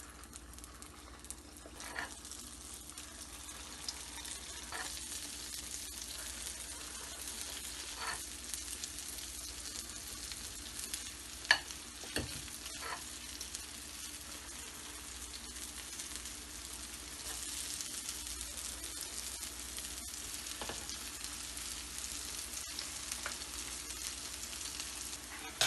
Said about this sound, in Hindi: तो चलें फिर फ्राई करते हैं।